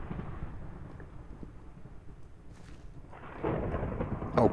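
Rolling rumble of thunder from a lightning storm in modded Minecraft, a low grumbling roll that fades and then swells again near the end.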